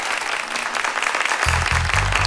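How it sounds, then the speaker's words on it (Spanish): Crowd applause for the winning band at a reggae awards ceremony at Luna Park, a steady wash of clapping joined midway by a pulsing low musical beat. "Un aplauso para ellos."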